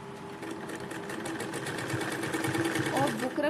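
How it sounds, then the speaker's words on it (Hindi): Close, steady whirring of a sewing machine stitching a sleeve piece, running continuously and building slightly in loudness toward the end. "इसी तरीके से इस पर भी हम ये सिलाई लगा के कंप्लीट करेंगे।"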